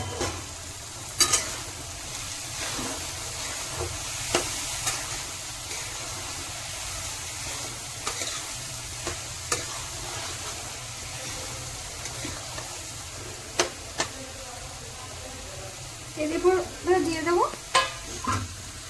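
Masoor lentil and egg tarka in a pan gives a steady close sizzle for the whole stretch, broken by occasional stirring clicks and scrapes and a busier spell of stirring near the end, with no voices.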